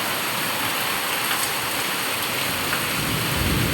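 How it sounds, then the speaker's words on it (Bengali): Heavy rain pours steadily over a flooded small garden in Dinajpur. It makes a dense, loud, unbroken hiss with no voices. "দূর দূর দেখুন শুধু বৃষ্টি আর বৃষ্টি"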